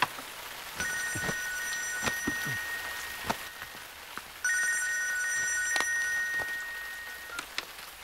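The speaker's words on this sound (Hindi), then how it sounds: "जरा फोन तो उठाओ।" A telephone rings in two long bursts of bright electronic trilling, separated by a pause, against faint background noise and a few scattered clicks.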